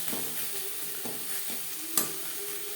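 Eggplant sizzling in a pan, with a spatula scraping and stirring every half second or so over a soft, continuous fry.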